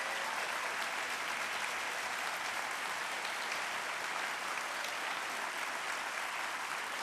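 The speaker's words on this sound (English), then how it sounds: "let's give them a round of applause and appreciation." A large convocation audience applauds its staff, a thick, even wash of clapping from many hands that stays constant and loud from start to finish.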